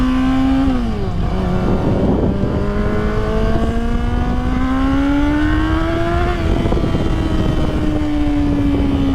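A Chevrolet Camaro's engine drones loudly nearby, its pitch sliding and swelling as the car rolls past on the road.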